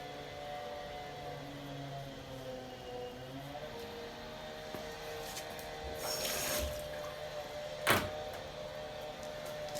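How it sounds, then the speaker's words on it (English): Pottery glaze tools are rinsed under running tap water, a soft steady flow with a hum in the background and a brief louder splash toward the end. "First I'm going to rinse these off because it's really easy right now."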